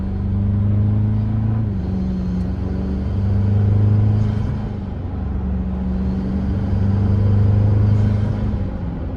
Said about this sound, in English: Now you can hear the turbo sound, right?